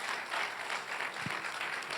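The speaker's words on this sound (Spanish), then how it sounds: "Dale un fuerte aplauso al Señor." Church congregation applauding during a sermon, a brief burst of loud, dense clapping from many hands filling the whole moment.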